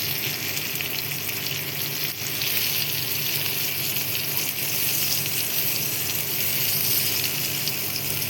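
Chilapi fish frying in a pan of hot oil makes a steady, dense sizzle and crackle that holds at an even level from start to finish, close up, with no talking.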